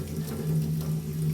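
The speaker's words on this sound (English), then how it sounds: "First thing I'm going to want to do is wash up my hands." Hot tap water runs steadily into a kitchen sink while hands are washed after butchering raw chicken thighs, a continuous close hiss and splash with no talk.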